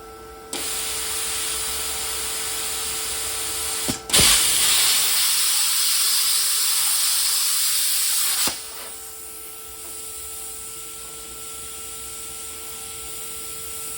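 Yeswelder Cut-65DS plasma cutter slicing through 1/8 inch metal: a steady hiss of air starts, then a louder, harsher roaring spray lasting several seconds, ending abruptly before the softer hiss continues alone.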